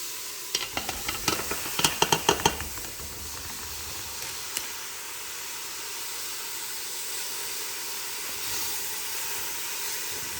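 Chicken sausages hit a pot of sweating vegetables for a 12-bean soup with spinach and zucchini, a few clattering stirs up front, then a steady, loud sizzle and hiss that carries on alone.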